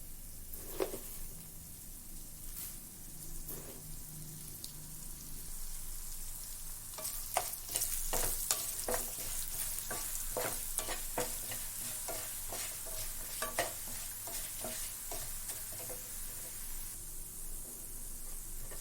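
Cumin and coriander seeds fry in hot oil over a low flame, a steady close sizzle with bursts of crackling and popping through the middle, stirred now and then.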